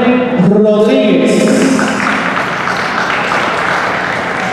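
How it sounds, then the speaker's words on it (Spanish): Steady applause from a crowd at the Pan Am Masters 2016 opening ceremony fills the space, a dense wash of clapping that continues evenly throughout. "Fuerte aplauso para ellos."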